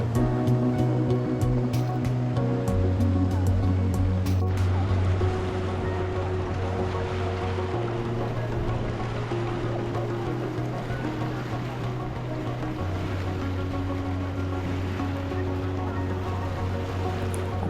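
Artificial waves churn steadily in an outdoor thermal pool, a continuous rushing wash of water with a low droning machine tone shifting pitch beneath it and no talk.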